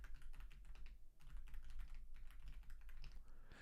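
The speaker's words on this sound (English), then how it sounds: "is this microphone, is this keyboard satisfying noise-wise?" A computer keyboard clatters under steady typing, a continuous fast patter of keystrokes close to the microphone with a low hum beneath.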